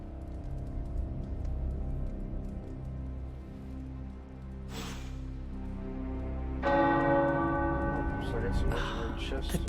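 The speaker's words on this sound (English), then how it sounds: "The tower bells are ringing." Tower bells ring out in the video game Marvel's Midnight Suns with sustained, layered tones over a steady background hum, swelling louder and brighter in the final few seconds.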